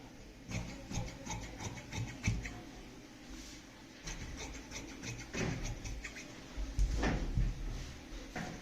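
Scissors cut blouse fabric along chalk marks on a table, giving soft, close rasping snips and rubbing in uneven bursts, with firmer cuts near the end and no talk.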